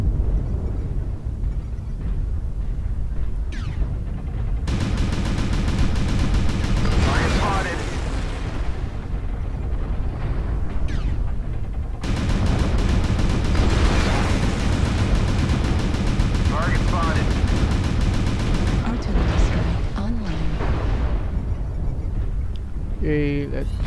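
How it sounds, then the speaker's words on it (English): Video game artillery strike with gunfire, heavy booms and explosive rumble filling the whole stretch, loud and dense, with brief harmonic voice-like tones cutting through at moments. "Artillery target strike spotted."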